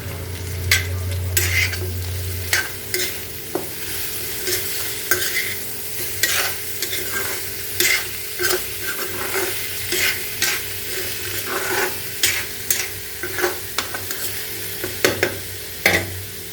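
Pork stir-fries in a pan with two green chilies split in, a continuous close sizzle broken by frequent sharp scrapes and clicks of a spatula against the pan, with no voices.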